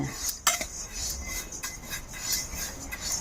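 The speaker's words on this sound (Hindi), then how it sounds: "देखिए इसी प्रकार हम भून लेंगे।" Sesame seeds are roasted in a pan and stirred, giving soft continuous rustling and scraping with a few light metallic clinks, quiet and close.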